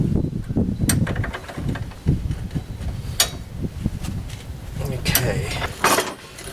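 Metal wrenches, 18mm and 9mm, ratchet and clank while turning a tie rod on a 2004 PT Cruiser, giving close, irregular mechanical clicks and scrapes throughout.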